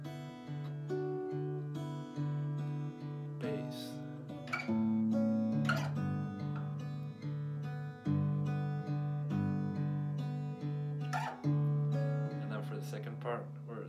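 Fingerstyle acoustic guitar playing a part of a song in standard tuning with a delayed bass line, with steady plucked notes over low bass tones, close and clear, no talking.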